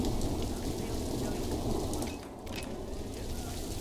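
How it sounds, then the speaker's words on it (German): Steady, dense rain falls in a zoo-building video game, with a rolling rumble of thunder underneath, continuous and loud throughout. "Stört ihr das, dass es jetzt regnet?"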